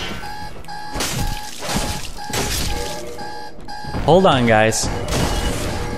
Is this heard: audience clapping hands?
no